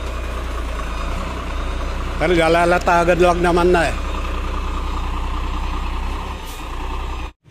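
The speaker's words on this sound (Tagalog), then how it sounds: "6 na truck na ganitong kalalaki mga kaibigan, itong nandito na." Large trucks idle at night at a road asphalt paving site, a deep steady engine rumble running throughout while someone speaks over it, with a loud burst of engine and mechanical noise in the middle.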